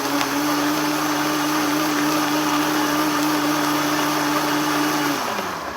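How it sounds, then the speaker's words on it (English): A countertop blender whirs continuously while blending a Trim Healthy slushy, a loud steady motor drone held for several seconds before slowing down at the end, with no talking. "Want to make sure you blend it long enough."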